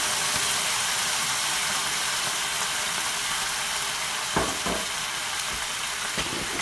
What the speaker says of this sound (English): We're going to deglaze these onions